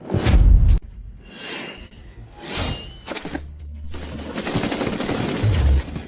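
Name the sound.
gunshots in a drama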